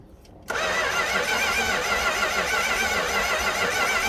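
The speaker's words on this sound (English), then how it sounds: "First time attempting to start in 8 years." A 1964 Plymouth Barracuda engine, sitting unused for 8 years and running on a borrowed battery with no fuel added to the carburetor, bursts into a loud, steady running roar after a brief quiet moment and keeps going.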